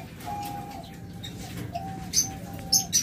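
Green Fischer's opaline lovebirds call from a cage in short, sharp chirps and a few thin whistled notes, faint and scattered over a low background hum.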